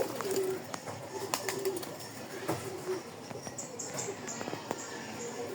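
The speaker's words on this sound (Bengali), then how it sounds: "এখানে এক জোড়া কবুতর।" A pair of village-raised pigeons coo softly nearby in soft repeated low calls, with faint rustling, wing flutters and clicking sounds, while someone talks quietly at intervals.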